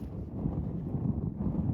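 Strong desert wind buffeting the microphone, a low continuous rumbling roar with no voices.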